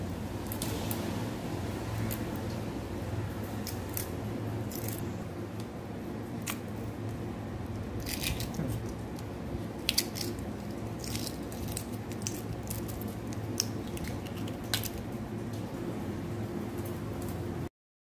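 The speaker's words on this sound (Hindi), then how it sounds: "और इस तरह से छिलके निकालें।" Shells are peeled off boiled eggs in cold water, giving faint, scattered cracks and crinkly snaps, with soft wet handling sounds between them.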